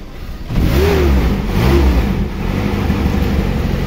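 Suzuki Espass car engine running on LPG fuel revs up sharply, holds a loud, steady mid-pitched drone with slight wavering, then settles to a rougher idle, close and alone.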